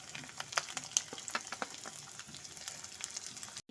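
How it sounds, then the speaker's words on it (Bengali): Chopped garlic, ginger and onion frying in mustard oil in a pan, a close crackling sizzle with sharp pops and stirring scrapes, steady throughout without talk. "রসুনটা ভাজা ভাজা হয়ে গেছে, দিয়ে দিচ্ছি আদা কুচি, দিয়ে দিচ্ছি পেঁয়াজ কুচি"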